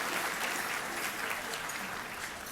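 Soft, distant applause from an audience at an awards celebration fills the room as a continuous, even wash of many hands clapping, steady in level without standout claps.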